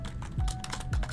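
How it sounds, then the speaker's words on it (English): Keys clack in quick succession on a computer keyboard, a short close run of typing strokes alone. "This is going to be some typing."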